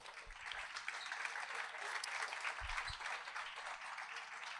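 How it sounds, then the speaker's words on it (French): A conference audience on free speech and censorship gives sustained applause to welcome a speaker to the stage, an even, fairly distant wash of clapping with a few louder claps standing out. "Je vous demande de l'applaudir bien fort et de l'accueillir."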